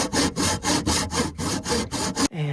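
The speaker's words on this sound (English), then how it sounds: "So I ended up hand sawing a lot of it." Rapid back-and-forth rasping strokes of a hand saw cutting wood, about a dozen even strokes close up, ending abruptly.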